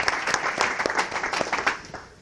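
Welcoming applause from an audience at a talk on ethnobiology and mycology, with individual claps standing out from the crowd before the clapping fades away near the end.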